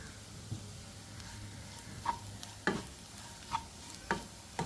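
A spoon mixes a snack filling with coriander leaves in a pan, making a soft steady sizzle punctuated by several sharp clicks and scrapes at irregular intervals.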